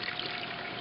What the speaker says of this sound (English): You're probably hearing more water splashing here